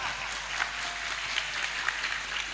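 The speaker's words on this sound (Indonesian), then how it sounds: "Tepuk tangan untuk panitia." Audience at an NU religious gathering applauds the event committee, a steady, moderately faint patter of many hands with a few sharper claps standing out, heard on its own.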